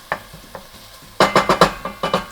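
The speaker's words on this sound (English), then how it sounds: "our pork is browning up nicely" Seasoned ground pork browning in a pot, with a few light scrapes first, then a quick run of loud, close spoon strokes against the pan over a soft sizzle.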